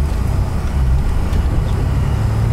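1986 Ford Mustang LX 5.0 pulling away on a drive, a loud, steady low engine rumble heard from inside the cabin with no voices over it.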